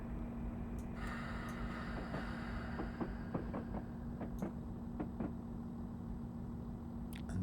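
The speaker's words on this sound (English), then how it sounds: "Sound of that diesel sat there idling." Class 158 diesel multiple unit idling in Train Simulator, a steady low engine drone with faint clicks and brief higher tones over it, no voices.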